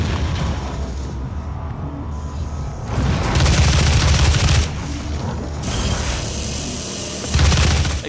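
Rapid bursts of gunfire in the video game Doom, with loud, dense volleys of shots and booming impacts that swell and fade across the clip.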